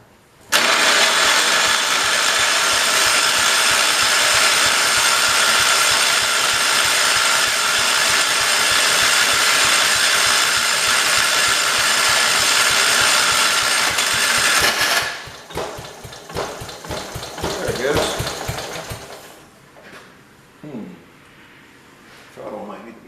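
A Kohler engine being swapped into a 1968 112 garden tractor is cranked: a long, loud, steady whirring crank that stops abruptly, followed by quieter clatter and handling noises, with someone talking briefly near the end.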